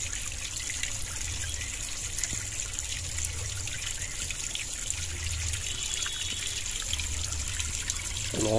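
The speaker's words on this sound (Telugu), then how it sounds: "కొండ గుహల్లోంచి వస్తున్నటువంటి వాటర్" Water trickling out of mountain caves at a temple site, a steady close-up splashing and dribbling flow running continuously at an even level, with no talk.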